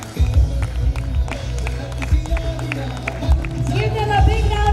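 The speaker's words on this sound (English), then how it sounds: "Give them a big round of applause" An audience at a school annual function applauds class 9 students, with steady crowd clapping and cheering under loud hall babble and an announcer talking.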